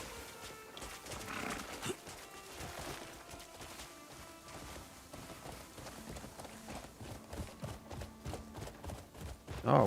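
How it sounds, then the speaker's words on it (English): A horse in a video game galloping with rhythmic clip-clop hoofbeats and an occasional whinny, at moderate level under a soft game soundtrack, with a louder burst at the end. "Come on, horsey."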